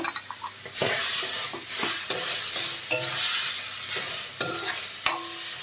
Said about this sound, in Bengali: বেগুনটা ভাজা ভাজা হয়ে গেছে